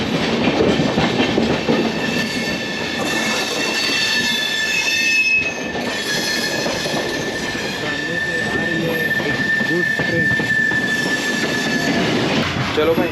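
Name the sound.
Durg Ajmer Express train passing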